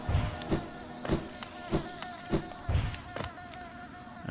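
Bees from the Hollow Knight video game buzz steadily, overlaid by regular rhythmic thumps and clicks of in-game combat strikes roughly every half second, fairly close and without talk.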